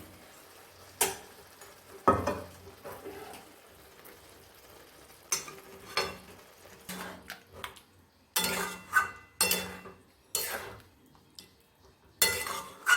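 Marinated chicken and spices being stirred in a pan, with a spoon scraping and clattering in irregular bursts that grow busier toward the end, close and clear with no talking.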